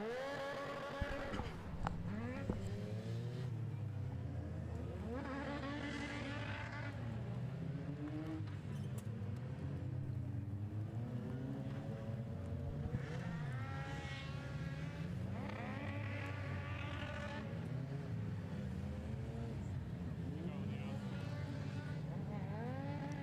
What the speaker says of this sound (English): Cross cars on circuit again